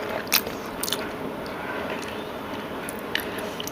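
Close, soft chewing of doi potol, a pointed gourd curry in yogurt with cashews, poppy seeds and roasted peanuts, gives moist squishy bites and a few light crunches over a faint background hiss.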